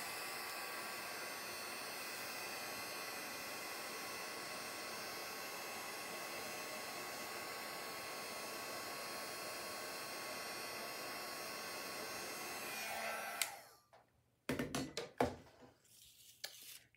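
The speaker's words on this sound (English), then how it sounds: "Let's go ahead and use the heat gun on this one." A heat gun blows with a steady, loud whooshing hiss for about thirteen seconds while drying paint on background paper, then switches off, leaving a few faint clatters.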